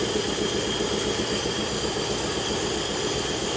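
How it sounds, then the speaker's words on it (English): An old 1950 Cadillac engine, running again after sitting 42 years in the desert, holds a steady rumbling idle with a dense, continuous mechanical roar, close and loud with no talking. "What a great sounding engine."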